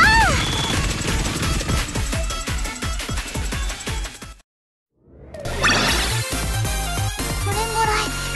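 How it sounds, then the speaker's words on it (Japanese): A heavy salvo of rapid gunfire and explosive whooshes in a video game, dense and loud, cutting out to silence for a moment before another burst of blasts resumes. "全弾発射。"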